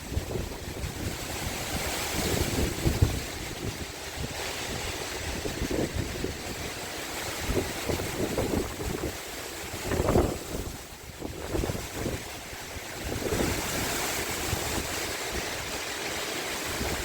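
Gusty wind and rolling surf in the aftermath of Hurricane Ian, a steady outdoor roar with buffeting wind on the microphone and waves swelling and crashing throughout.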